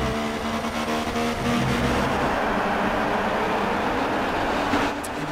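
Race car engines in F1 2016 during a Grand Prix safety-car period, a steady loud drone of several engines humming together without pause.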